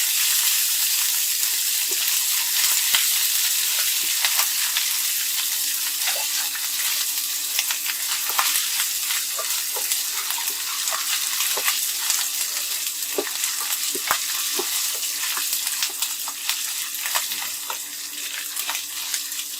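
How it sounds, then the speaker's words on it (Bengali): Garlic paste and ginger paste frying in hot oil in a pan, a steady close sizzle with crackling pops and light stirring scrapes running throughout. "এখন এর মধ্যে আমি একটু এই যে রসুন বাটা দিয়ে দিচ্ছি এটা একটু হালকা ভেজে নেব তার সাথে একটু আদা বাটা দিচ্ছি এটা আরেকটু ওর সাথে হালকা ভেজে নেবো"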